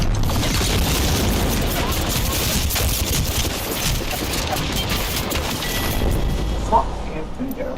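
Combat in Apex Legends where a frag grenade is thrown and detonates, set in a dense, loud wash of gunfire and explosions that runs without a break, with a sharper burst standing out near the end.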